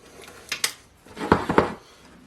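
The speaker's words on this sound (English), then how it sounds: "So this is a nice, like, cheesy breadcrumb we mix together" Seasoned breadcrumbs, nutritional yeast and Parmesan being stirred together in a bowl, giving a few close, dry scraping and clinking strokes in two short bursts, with no talk.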